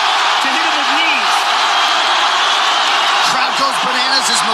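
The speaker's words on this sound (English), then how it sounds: "Crowd goes bananas as McGregor gets upright" Roaring arena crowd at the McGregor versus Khabib fight, a steady wall of cheering and shouting as McGregor gets back up, with a commentator's voice over it.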